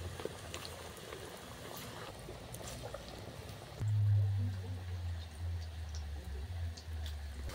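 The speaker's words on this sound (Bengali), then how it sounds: "দেখুন একটু ডুবু তেলে ভাজতেই কিন্তু একসঙ্গে অনেকগুলো ভাজা যাবে" Pakoras deep-fry in a pan of oil, a soft bubbling hiss with scattered pops and crackles, followed by a low rumbling hum that swells midway and continues underneath.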